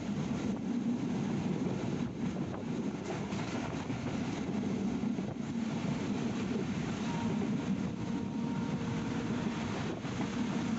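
A passenger train on a rail journey from Dinajpur toward Panchagarh gives a steady rumbling roar with faint rhythmic wheel clatter on the rails, heard continuously from inside the moving carriage.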